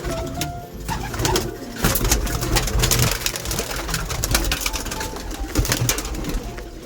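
Pigeons, including hens and young birds, coo steadily in a chorus as they leave their loft room, several close by, with wing flutters and rustling through a busy, continuous background.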